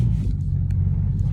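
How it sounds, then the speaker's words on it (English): A car idling or rolling slowly while being parked at an office, a steady low engine rumble close by, continuous and without speech. "I'm here at the office, parking my car."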